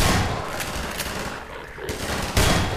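Shotgun blasts in the video game Half-Life 2, loud booming shots with a burst near the start and another sharp blast late, amid dense gunfire-like noise of a combat scene.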